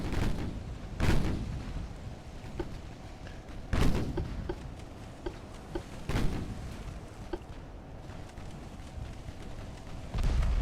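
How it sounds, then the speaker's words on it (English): Torpedo hits on a ship in a naval video game, several heavy booming explosions spaced a few seconds apart, loud and close, each followed by a rumbling decay. "there go the first torpedoes"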